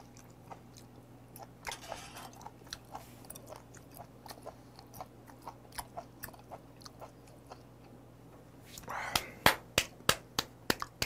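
Someone chews raw beef shank dressed in Daegu-style mungtigi sauce, with close, wet rhythmic chewing and soft crunching clicks that grow louder near the end, amid quiet background noise.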